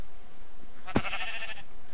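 A Minecraft sheep gives one short, clear bleat in the middle of otherwise quiet game ambience.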